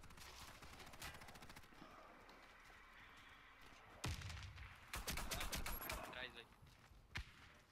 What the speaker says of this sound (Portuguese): Só sei que eu tô no meio do tiro cruzado, do fogo cruzado.